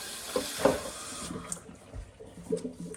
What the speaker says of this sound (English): Then rinse it off.